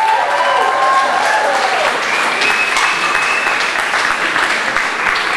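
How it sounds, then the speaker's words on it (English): Audience at a Pecha Kucha talk on contemporary art breaks into loud, sustained applause, dense clapping filling the room for about five seconds without pause. "Please give them a round of applause."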